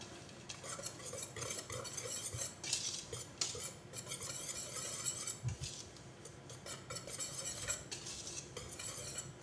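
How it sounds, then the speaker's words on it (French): Cake batter of sugar, powdered sugar, flour and baking powder stirred in a bowl for a lime and pistachio cake, with steady scraping and clinking of a utensil against the bowl, close and continuous, no talking. "On mélange le tout."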